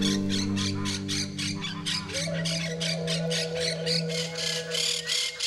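A flock of parakeets squawks in the Pantanal, harsh rapid calls repeating in a dense, steady chatter with several birds overlapping at close to mid range.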